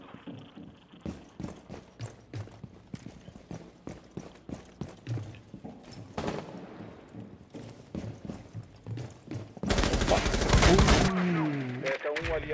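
Rapid gunfire from the video game Rainbow Six Siege, a long string of sharp single shots in quick irregular succession, then a loud burst of sustained noise near the end, with a voice talking over parts of it.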